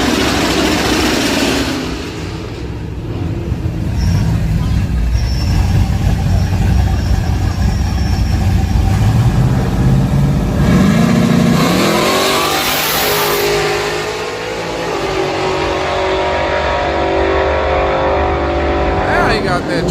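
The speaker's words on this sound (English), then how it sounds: "Now he got that truck rolling." A sleeper truck drag racing on a highway, its engine revving hard and climbing in pitch as it accelerates, loud and close, with a shift and renewed surge midway while people shout excitedly over it.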